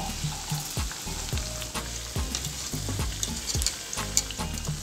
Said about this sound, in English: Gently stir them around to cook all sides.